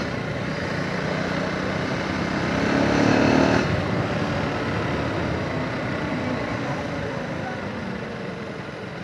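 A motorcycle rides a rain-damaged road on a morning trip to Khari Bari viewpoint, giving a continuous broadband engine and wind rumble that swells briefly near the start, then holds steady.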